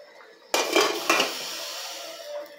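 Cooking pan and cutlery clatter while making macaroni at home, a sudden metallic clang followed by a second sharp knock and ringing decay, close and loud.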